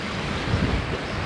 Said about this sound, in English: a bit of a windy day